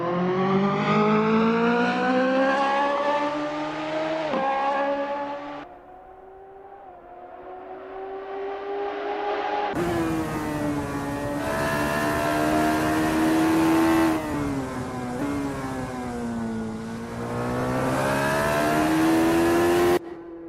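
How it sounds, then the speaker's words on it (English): Radical SR3 race car engine on an outlap of the Nordschleife, loud and close with steady revving that rises and falls through gear changes, briefly dropping to a lower idle-like drone before climbing again. "Watch as Richard Rossier takes it nice and easy on this outlap"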